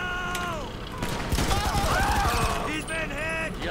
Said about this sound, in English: I select this one and I get the grenade launcher.